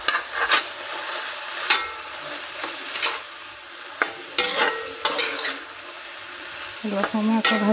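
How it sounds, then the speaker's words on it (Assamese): Spices stirred and fried in a pan with added turmeric, a steady sizzle broken by repeated scraping and clinking of a spoon against the metal pan, close and fairly loud, with no talking. "অলপ সময় আকৌ ভাজিম মই এইখিনি ধুনীয়াকৈ।"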